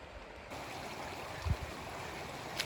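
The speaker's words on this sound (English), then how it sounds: "Now I have a little stream I gotta wade across." A small mountain stream in wilderness backcountry gives off a faint, steady rushing murmur, with a couple of soft low knocks near the middle.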